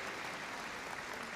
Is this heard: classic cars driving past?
no